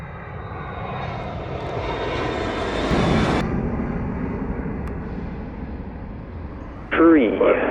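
A fixed-wing airliner's engines rumble steadily on approach to runway 07 at Montego Bay airport in Jamaica, loud and continuous throughout, with a brief burst of air traffic radio chatter near the end.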